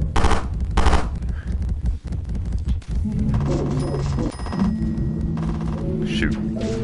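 Rapid machine-gun bursts and gunfire from the PSVR shooter Time Carnage, loud and dense, with heavy rumbling impacts over the first seconds and then steadier overlapping game noise and tones.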